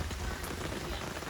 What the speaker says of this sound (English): Can't seem to escape rain when I'm camping.